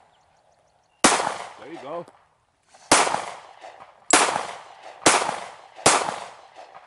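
Five sharp gunshots at an outdoor shooting range, each a loud close crack with a short decaying tail, spaced about a second apart after a pause, with brief talk in between.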